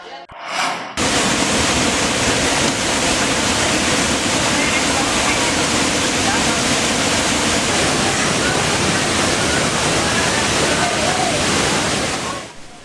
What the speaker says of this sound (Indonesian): deburan air yang jauh dari ketinggian